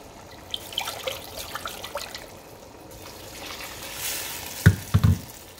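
Tomato sauce thinned with pork broth sizzles and bubbles in a pan, a soft, close frying hiss broken by light stirring scrapes and a few sharper knocks near the end, with no talk.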